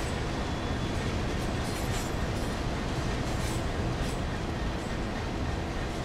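A Class 66 freight locomotive in EWS livery runs steadily along the track in the Train Sim World 2020 game, giving a continuous, even rumble of rolling wheels and engine noise without any talk.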